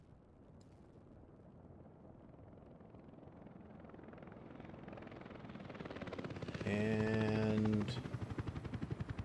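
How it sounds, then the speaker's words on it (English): A helicopter arriving in the Workers & Resources: Soviet Republic video game: a quiet, steady rotor rumble that slowly swells and grows loudest near the end, where a brief tonal game chime sounds over it. "Is a chopper going to actually arrive?"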